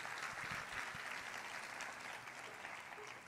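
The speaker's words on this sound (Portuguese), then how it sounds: "pode aplaudir a Jesus" A church congregation at a conference applauds, a full, steady clapping that stays fairly even and slowly tapers toward the end, quiet overall and with no one speaking.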